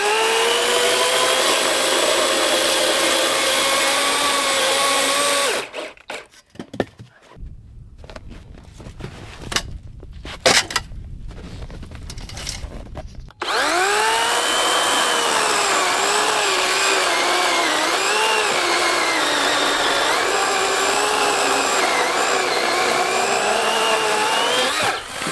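A chainsaw cuts firewood at a winter tent camp, partly rotten wood, running loud and steady with rising and falling engine pitch for about six seconds, dropping into a rougher idle and pause, then revving back into sustained cutting to the end.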